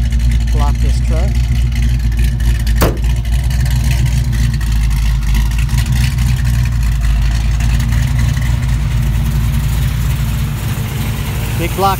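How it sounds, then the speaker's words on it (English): A big-block Chevy V8 in a 1969 Camaro idles loudly and close, a deep steady rumble with a slight lope, while someone talks over it. "See the engine running right there."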